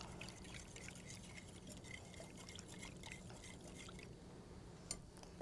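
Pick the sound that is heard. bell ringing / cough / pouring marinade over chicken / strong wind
pouring marinade over chicken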